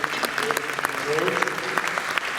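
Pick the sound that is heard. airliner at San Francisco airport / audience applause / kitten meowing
audience applause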